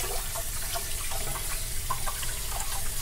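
Running water from a tap rinsing a gutted whole flounder (hirame) in a sink, a steady close splashing stream that continues unbroken throughout, with no talking.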